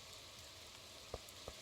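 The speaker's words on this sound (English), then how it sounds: "Everybody's gonna be hiding inside from the rain." Steady rain falls in the Stardew Valley video game, a soft, even hiss throughout with a couple of brief drip-like taps near the end and no voices.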